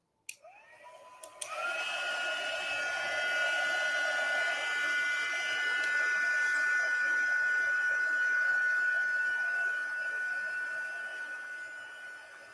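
A heat gun heat-sets ink on a card. After a click it runs as a steady, close, whirring blow that holds for the rest of the stretch.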